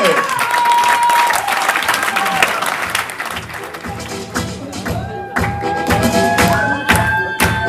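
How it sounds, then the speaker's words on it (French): A comedy-show crowd at the Printemps du Rire applauds loudly as comedian Rach, from Mulhouse, comes on stage, with steady dense clapping and a tonal music line threading through it, then sharper individual claps toward the end. "je demande à l'applaudir très très fort"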